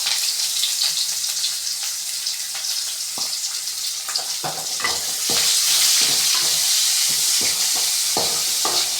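Chana dal, urad dal, three dried red chilies and chopped onion sautéing in a pan for chow chow kootu, a bright steady sizzle broken by repeated sharp spatula scrapes and taps that grow busier, close up with no voices.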